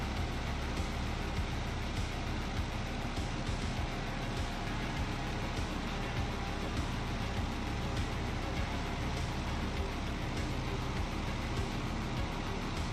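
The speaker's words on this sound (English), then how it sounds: "You can hear that F6F, man. That's an awesome sounding engine." A Grumman F6F warplane engine in a flight video game drones with a steady, unbroken roar, a loud, even rumble that holds without a break from start to finish.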